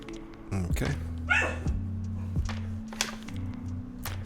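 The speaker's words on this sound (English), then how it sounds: "The bark sounded very similar to a wiener bark." A small dog with a dachshund-like bark gives a few short, sharp yips close by against a steady low tonal hum in a quiet indoor room.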